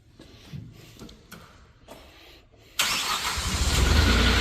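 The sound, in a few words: Moffett M55 truck-mounted forklift engine starting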